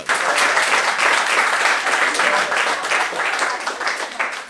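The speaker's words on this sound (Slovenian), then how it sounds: "Zelo dobra druga runda, dajmo aplavz za Andrića!" An audience at a comedy roast battle applauds a comedian, a loud, sustained burst of many hands clapping with a slight pulsing swell, filling the room throughout before easing slightly at the end.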